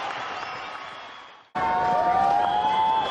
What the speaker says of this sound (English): big cheer from the crowd